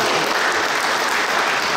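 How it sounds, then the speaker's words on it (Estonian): Dense, loud applause from an audience at the opening of a table tennis hall, steady clapping throughout. "Aplaus!"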